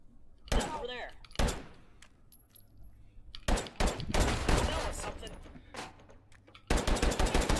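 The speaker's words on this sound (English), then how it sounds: "Let's do some point shooting." Gunfire from point shooting in the Take & Hold video game cracks out in sharp bursts, single loud shots and a rapid fusillade toward the end, close and punchy, with a person talking between volleys.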